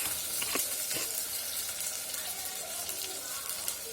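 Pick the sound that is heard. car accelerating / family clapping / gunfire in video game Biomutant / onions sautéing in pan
onions sautéing in pan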